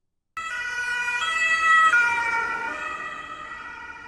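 A wailing siren sweeps past, its pitch dropping noticeably as it moves away, loud at first then fading slightly.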